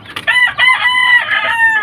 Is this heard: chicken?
yes